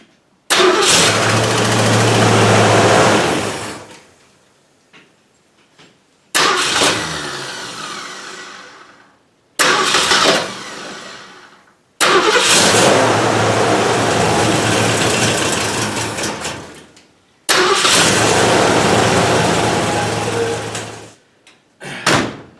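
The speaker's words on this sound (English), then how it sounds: "She turns over real nice now." A 1967 Ford Mustang fastback's engine is cranked by a new starter several times, with five separate bursts of loud whirring cranking, each tapering off, separated by short silent gaps.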